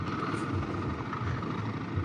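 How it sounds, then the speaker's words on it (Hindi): Emirates passenger plane flying overhead, a steady broadband roar heard from inside a moving car on an expressway, continuous and fairly loud throughout. "ये देखिए ऊपर एमिरेट्स की फ्लाइट जा रही है"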